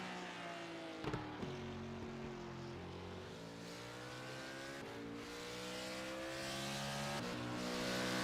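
GT3 race car in a racing game lapping Sebring, its engine droning steadily through repeated upshifts and downshifts, with a brief low thump near the start and the revs climbing louder toward the end.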